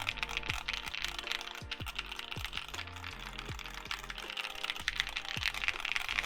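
Steady typing on an assembled Neo 65 CU mechanical keyboard fitted with JOG keycaps, rapid irregular clacks running continuously and close, with no talking.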